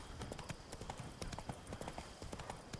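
Horse hooves clip-clopping at a steady riding gait in The Witcher 3: Blood and Wine, a continuous rhythmic trot of distinct hoof strikes, moderately loud throughout with no talk.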